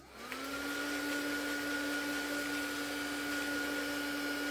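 A heat tool drying a stamped art journal page, a steady whirring blower hum with a faint rising whine as it spins up, continuous and alone at moderate volume.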